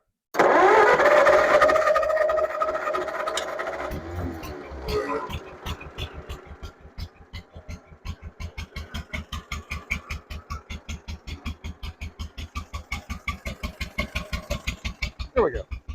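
A 1950 John Deere Model M tractor engine cranks and catches after a loud start, then settles into a steady, close, rhythmic two-cylinder idle that pops evenly for the rest of the time.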